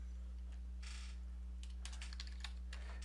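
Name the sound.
typing names on a computer keyboard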